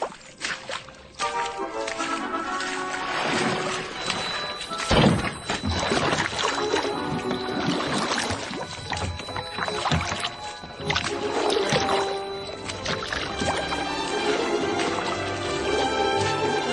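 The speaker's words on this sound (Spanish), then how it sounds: "Este chapoteo que sonaba." Water splashes and sloshes continuously at close range, blended with sustained tonal sounds, with a sharp burst of splashing about five seconds in.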